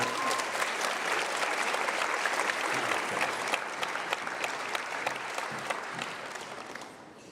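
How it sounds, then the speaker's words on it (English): A scholarship night audience applauds in a steady, full wash of clapping that holds strong, then gradually thins and fades out near the end. "One more round of applause for"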